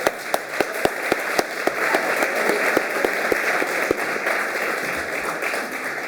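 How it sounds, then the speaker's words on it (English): A conference audience at a university centennial peace conference in Paris gives a round of applause during closing remarks, a few sharp individual claps standing out at first over dense, sustained clapping. "we could give a round of applause"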